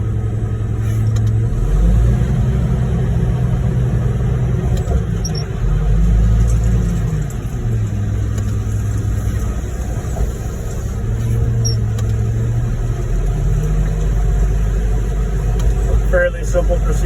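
A concrete pump truck's diesel engine runs in a steady low rumble, rising and falling slightly, while pumping out a 10-yard load of concrete on a construction site; someone talks over it.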